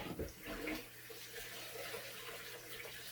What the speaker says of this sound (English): I'm going to rinse my hand off now.